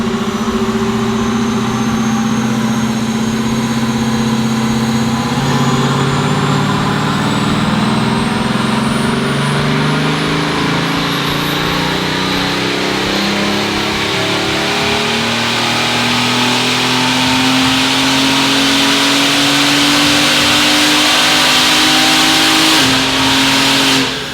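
A loud, powerful Bugatti Veyron engine runs continuously and close by, its pitch gradually climbing as it revs higher over the span.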